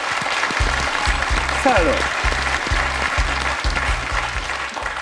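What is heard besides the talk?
studio audience applause on a quiz show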